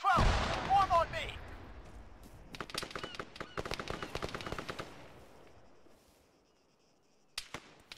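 Gunfire in the ArmA 3 combat game: a loud blast up front, then bursts of rapid automatic fire at mid distance that fade out, with a few sharp shots near the end and voices shouting in between.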